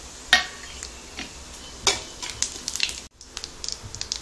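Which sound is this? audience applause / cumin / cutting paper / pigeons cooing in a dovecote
cumin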